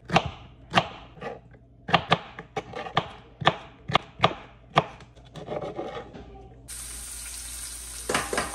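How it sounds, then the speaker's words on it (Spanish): A knife chops celery on a cutting board in a home kitchen: a steady series of crisp, close thuds, then the chopping stops and a water tap runs into the sink. "ahorita voy a cortar el apio"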